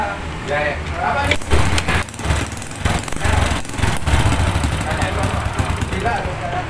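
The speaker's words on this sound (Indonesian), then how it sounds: "Kita akan starter coba ya, kita akan coba hidupkan ya motornya ya." A Honda Grand motorcycle engine is started and runs with a rough, loud sputtering chatter after a short lead-in, the noisy close idle continuing throughout.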